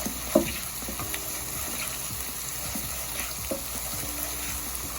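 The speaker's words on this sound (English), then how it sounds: "On medium heat, saute your garlic, shallots, scallions, and chopped red pepper." Garlic, shallots, scallions and chopped red pepper sauté in a pan over medium heat, a continuous close sizzle with scattered soft stirring knocks and no talking.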